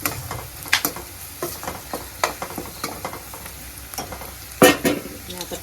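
Masala spice mix with turmeric and garam masala sizzles in a hot pan in a home kitchen, with repeated close scraping and stirring strokes of a spoon at an uneven rhythm over a steady frying hiss.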